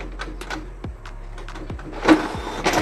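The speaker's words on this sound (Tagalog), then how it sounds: "So printing na siya guys." Mechanical whirring and clicking of an Epson L8050 EcoTank inkjet printer feeding and printing, with short bursts of motor noise and a louder rattle toward the end.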